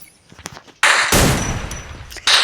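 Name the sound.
gunshot in a shooting video game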